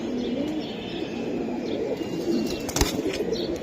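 A military pigeon coos softly under a steady wash of background noise, with faint low murmurs and a brief sharp clatter near the end.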